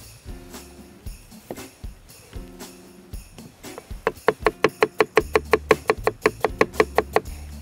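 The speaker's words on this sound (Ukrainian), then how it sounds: "Дай нарізаю картоплю." A knife chops potatoes on a board outdoors during camp cooking, a few sparse knocks at first, then a quick, even run of sharp chops that grows louder and closer; no speech.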